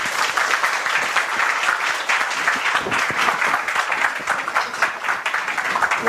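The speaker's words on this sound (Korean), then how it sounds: "우리 뜨거운 박수로 환영 바랍니다." Sustained, loud applause from a large crowd, steady clapping throughout with no talking.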